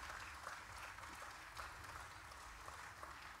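A concert audience applauds steadily, a dense wash of clapping heard from some distance at low level, continuing without a break.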